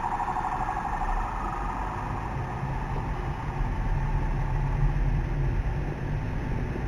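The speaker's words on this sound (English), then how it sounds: "Quite a number of police vehicles." Police vehicles drive along a Lagos street, a steady mid-level engine and road rumble that holds throughout with no clear pass-by peak and no talk.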